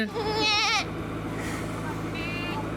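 Goats bleat at a goat farm in Uganda, one long wavering bleat close by, then a fainter second bleat a moment later, with a low steady hum and rustling behind.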